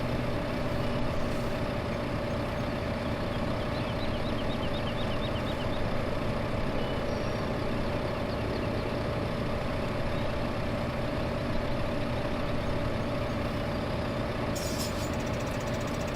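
A tractor pulling a trailer in Farming Simulator 2015, with a steady droning engine hum at constant loudness throughout and no talking.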